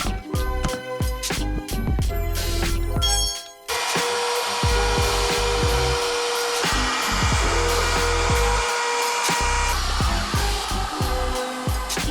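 A router with a 1/4 inch bit cuts wire channels into the wood of a teardrop camper, a loud continuous whining buzz with bursts of cutting noise and short pauses between passes.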